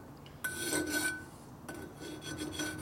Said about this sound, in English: this is a real coarse file